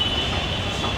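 A metro train pulls into a station with a steady loud rumble and a thin high squeal from the wheels, heard on its own with no talk.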